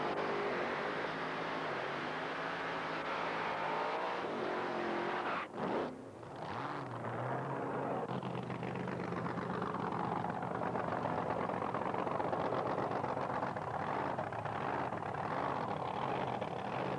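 Drag racing cars at a 1980s Australian meet, with a quicker Vega funny car, roar loudly and continuously for the whole stretch, engine noise briefly dipping around the sixth second before surging again as a car runs past.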